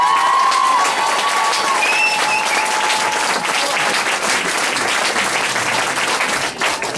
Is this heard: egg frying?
no